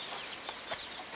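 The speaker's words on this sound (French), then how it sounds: "j'ai mis une poule qui couve" Inside a chicken coop, a brooding hen clucks softly in a few quiet, scattered calls, close but faint over a faint hiss, with no talk.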